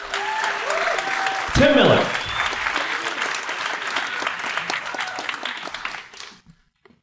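Enthusiastic theater audience applause at the Howard Theater during a political debate event, loud and sustained, with a voice announcing a name over it and a sharp feedback-like tone briefly rising before the clapping fades out.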